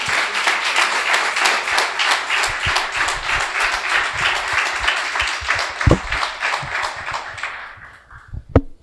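A church congregation claps loudly, with strong rhythmic beats of many hands in near-unison that hold steady before tapering off, ending with a couple of sharp thuds.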